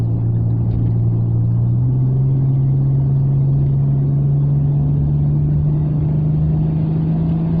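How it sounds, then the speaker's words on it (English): A car engine with a variable intake system climbs steadily in revs toward 3000, a loud, continuous droning rumble whose pitch steps up slightly partway through before holding steady, with no talking. "as it hits 3000 revs, the air intake system adjusts via the vis flaps"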